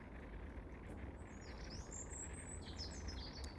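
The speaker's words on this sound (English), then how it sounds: "Birds are singing." Birds singing outdoors, faint chirps and short trilling phrases rising over a steady low rumble of wind and background noise, no talking.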